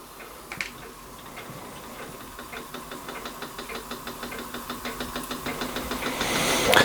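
A Weeden 672 model steam engine starts up and runs, its small piston chuffing in a steady rapid ticking rhythm that grows slightly louder and faster, close up with a faint hiss and no talking.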